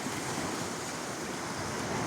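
Sea waves wash onto the shore of Katrancı bay near Fethiye, a steady, soft rushing surf with wind, continuous and fairly faint, no voices.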